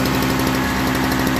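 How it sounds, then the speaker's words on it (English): The engine of a Toro 38602 Snow Commander snow blower idles steadily after a primer bulb repair, a loud, close, even chugging with a rapid regular pulse throughout. "so we know that that engine runs just fine."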